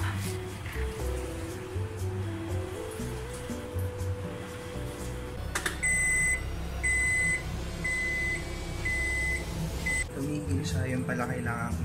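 A washing machine alarm in a home in Japan beeps repeatedly in an even series of short, clear tones, heard over running machine noise and water sounds, with people talking before the beeps start.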